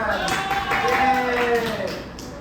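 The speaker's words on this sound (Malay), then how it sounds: "Okey, semua tepuk tangan." A classroom of students claps together in a short, bright burst of applause during a lesson on traditional crafts, with some voices mixed in.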